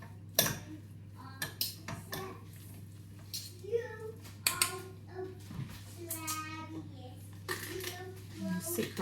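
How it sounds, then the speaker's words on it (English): Boiled potatoes being broken up in a pot with a utensil, giving scattered scrapes and a few sharp clinks against the metal, over a steady low hum with a voice and other chatter in the background. "I try and break up the potatoes a bit"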